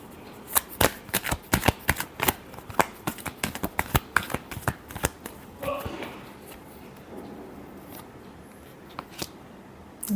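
A deck of tarot cards is shuffled by hand, close and crisp. Rapid riffling clicks come in quick bursts for several seconds, then thin out into a few scattered taps.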